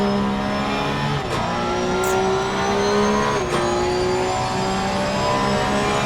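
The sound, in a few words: Porsche Cup race car engine in video game Assetto Corsa Competizione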